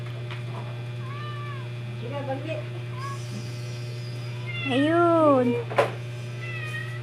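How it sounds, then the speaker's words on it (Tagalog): Several pet cats meow at feeding time, a few short meows followed by a louder, drawn-out wail, close by over a steady electrical hum, with someone speaking briefly. "Yan ang mga pusa ko."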